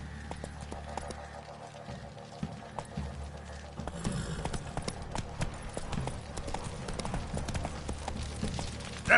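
Hooves of a horse in the video game The Witcher 3 clip-clop in a steady galloping rhythm, moderately close, with a faint background score beneath and the pace picking up slightly partway through.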